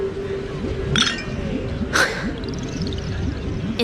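Glasses clink together in a toast in the Honkai: Star Rail game, two bright clinks a second apart over a steady low ambient bed with faint background voices.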